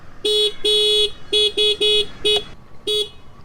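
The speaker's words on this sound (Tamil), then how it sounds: "அதுக்கப்புறம் கீழே உங்களுக்கு ஹாரன் வருது" A 2020 Aprilia SXR 160 scooter horn honks in a series of short beeps, seven quick toots with uneven gaps, loud and close.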